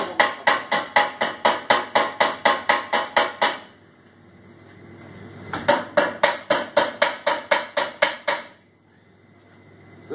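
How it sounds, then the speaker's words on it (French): Small homemade hammer chipping at a wooden butcher's shop counter under repair, with quick runs of sharp, evenly spaced metallic taps, a short pause, then a second run of taps, all loud and close. "C'est un petit marteau que je me suis fait."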